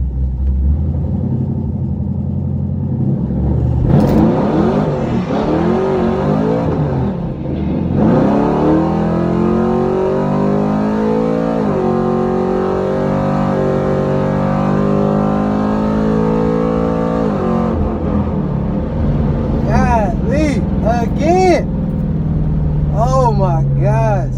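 A car engine revs hard through repeated rising and falling sweeps while testing a new tire setup, loud and close, with someone talking over it and sharper blips near the end.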